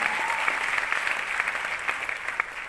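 A seated audience applauds a team member's achievement at a wellness company meeting, producing a steady, bright patter of many hands clapping together that holds at an even level throughout.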